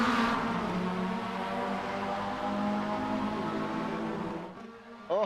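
Race cars revving and accelerating away together at a video game race start, a loud layered engine drone with rising tones that fades over a few seconds, ending in a brief sharp whine.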